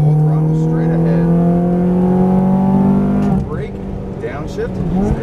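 Ferrari F430 F1 engine held at full throttle, a loud, steady rising howl with strong harmonics that drops sharply around an upshift, then pulls again, with a voice talking over it.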